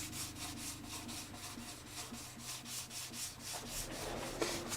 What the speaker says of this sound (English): try the sandpaper on her now. Just need to smooth it up a little bit right now.